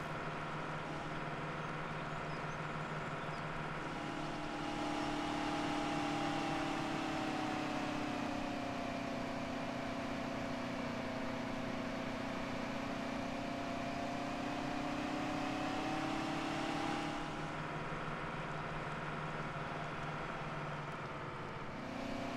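A Big Bud tractor engine in Farming Simulator 17 drones steadily at a low, even idle, with a slight rise in pitch partway through before settling back.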